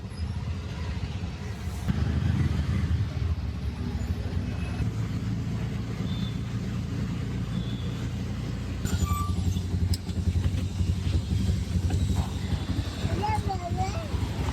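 An auto rickshaw rides through rain at night. A steady low engine rumble runs throughout, with voices talking over it.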